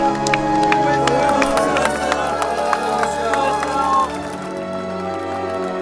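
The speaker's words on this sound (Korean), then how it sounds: "드디어 순례 팀원들이 320km 순례의 길을 마치자 기다리고 있던 환영단이 환호를 보냅니다" A welcoming crowd greets pilgrims finishing a 320 km walk along the DMZ, with loud, steady cheering, clapping and excited voices over background music, easing slightly toward the end.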